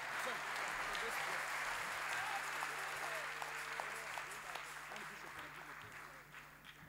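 A church congregation claps in praise of God as a sustained, dense wash of applause, loud and steady before tapering slightly toward the end.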